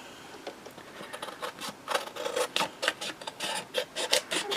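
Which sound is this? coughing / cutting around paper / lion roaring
cutting around paper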